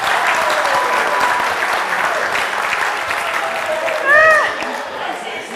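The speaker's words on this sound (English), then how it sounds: "on applaudit pour lui" Continuous audience applause fills a leadership academy seminar room, dense and even, with a brief whistle or cheer rising over the clapping near the end.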